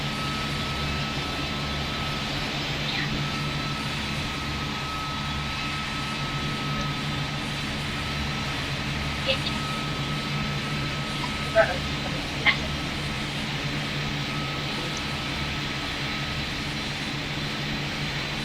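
Airplanes in the Roblox-style game Pilot Training Flight Simulator: a steady drone of aircraft engines at an airport hums continuously under a voice directing traffic, with a few brief clicks.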